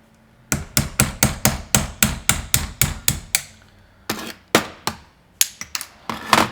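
A car's front suspension ball joint is hammered out on a bench with about a dozen sharp, evenly spaced metal blows. After a short pause, several more irregular strikes follow, all close and loud.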